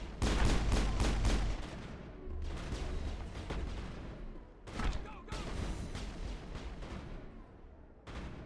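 Dense bursts of video game gunfire and explosive booms in a Paragon engineer space battle, loud and continuous at first and then in intermittent volleys.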